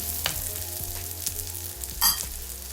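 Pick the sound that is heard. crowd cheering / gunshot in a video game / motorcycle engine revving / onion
onion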